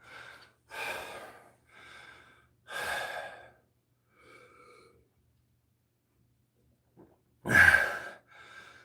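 Heavy breathing during a total-body workout circuit: a series of close, loud, breathy exhales and gasps in uneven bursts, separated by short pauses.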